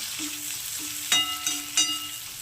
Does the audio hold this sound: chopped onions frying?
yes